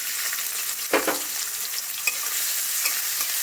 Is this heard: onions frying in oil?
yes